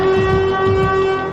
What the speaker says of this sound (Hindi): खेरसौन में सायरन तेज तेज बजने लगा